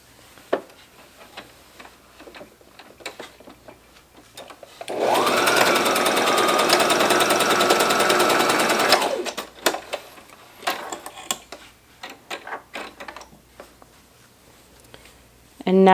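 A sewing machine runs for about four seconds stitching over the threading on a face mask seam, a loud rapid whirring burst between quieter clicks and handling sounds, with a voice heard faintly.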